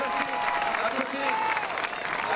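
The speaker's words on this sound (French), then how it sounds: "Un tonnerre d'applaudissements pour Edgar Rampis" Crowd applause at an outdoor festival, a steady wash of clapping that fills the whole moment without pause, with voices mixed in.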